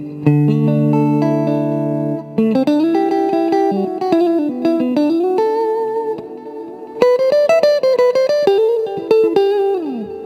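Distorted electric guitar through a Fender Mustang LT 25 amp's Super-Sonic model plays a run of sustained notes and chords, loud and gritty with a buzzing overdriven tone, continuing without any voices.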